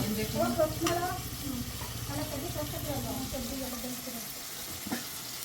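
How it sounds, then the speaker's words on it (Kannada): Onions fry in a pan for Sakleshpur-style dum biryani, a steady close sizzle with stirring scrapes running throughout, joined by a brief voice and a couple of clinks. "ಈರುಳ್ಳಿ ಫ್ರೈ ಆಗ್ತಿದೆ"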